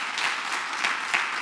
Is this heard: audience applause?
yes